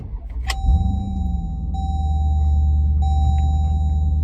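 A Jeep Grand Cherokee Trackhawk's supercharged 6.2 liter V8 fires up with a sharp crank and bark, then settles into a deep, loud, steady rumbling idle while chime tones repeat in the cabin.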